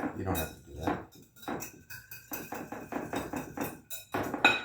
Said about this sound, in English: And I'm going to chop some bacon up.